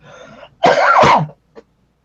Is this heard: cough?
yes